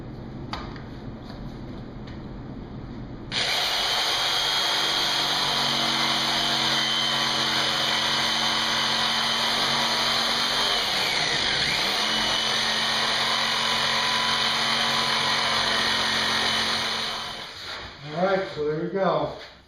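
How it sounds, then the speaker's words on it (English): A jigsaw cuts through wood for a pedestal extension table, starting abruptly into a loud, steady buzzing whine that dips briefly midway and then cuts off, followed by a short stretch of talking. "Got my jigsaw set up, and I'm ready to rock."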